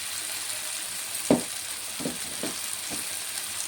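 Spices frying in a pan with salt and green chillies, a steady soft sizzle broken by a few sharp stirring scrapes and taps spaced across the few seconds, with no one talking.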